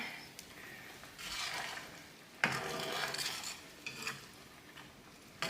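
A utensil scrapes and clinks around a pan in uneven strokes over a gentle sizzle, with a couple of sharper taps against the metal, as Marsala wine is stirred into a chicken Marsala sauce.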